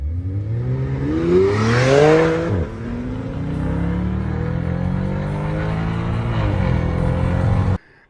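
A Porsche 911 with all-wheel drive launches hard from a standing start, its engine climbing through rising revs with gear changes, loud and close, then cutting off abruptly near the end.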